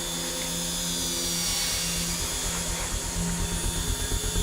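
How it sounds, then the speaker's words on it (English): A dental-style drill whirs steadily at close range throughout, a high continuous tool whine over a low mechanical hum, with no talk over it. "Stop the drill."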